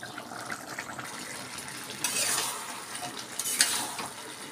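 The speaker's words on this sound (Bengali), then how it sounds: "দেখছো কেমন ফুটছে?" Rice boiling in a pot for muri ghonto, a Bengali fish-head and rice dish, giving a steady bubbling hiss with brief louder surges of gurgling and a faint metallic clink near the end.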